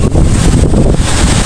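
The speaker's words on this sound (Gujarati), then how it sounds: "વાવાઝોડું ફૂલ છે." Strong wind in a summer rainstorm over farm fields roars loud and close, buffeting the microphone in a dense, rough rush of gusts, with no voices.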